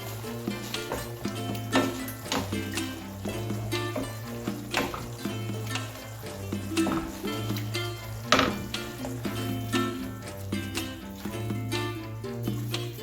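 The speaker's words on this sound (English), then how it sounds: "Stir it again." Sauce seasoned with paprika is stirred in a pot, with a spoon clinking and scraping faintly in a repeated rhythm over a steady background hum.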